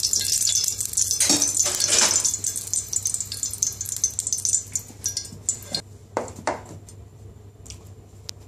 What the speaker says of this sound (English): Putting the vegetable oil in.